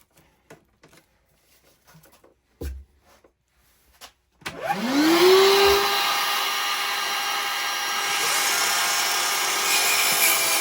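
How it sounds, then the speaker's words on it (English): Shop vacuum attached to a BAUER 20V cordless 4-1/2 in. circular saw switches on after a few light handling knocks, spinning up with a rising whine into a loud, steady close-up roar that runs to the end. "Hook the shop vac up."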